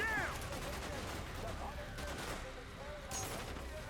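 Gunfire in the video game Call of Duty: Black Ops sounds as rapid shots and bursts, with a louder volley near the end, while voices talk over the action.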